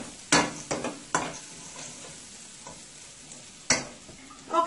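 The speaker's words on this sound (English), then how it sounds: "So I'm going to let this fry for about another minute or so." Split peas fry with turmeric and spices in a pan, sizzling, with a few sharp stirring scrapes and clacks breaking through the steady crackle.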